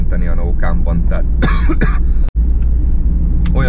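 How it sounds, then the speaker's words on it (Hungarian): Someone speaking Hungarian coughs and clears his throat mid-sentence during a coughing fit, the harsh bursts loud and close amid his talk and followed by a brief dropout. "olyan köhögő roham jött rám, hogy besírtam."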